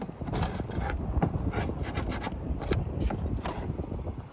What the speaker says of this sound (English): to scrape off all this dry laminated plywood.